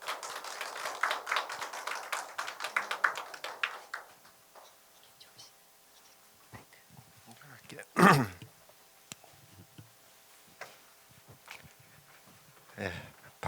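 At the opening ceremony of an inclusive international development forum, an audience briefly applauds to welcome a speaker. The clapping fades after a few seconds into quiet, scattered knocks and taps.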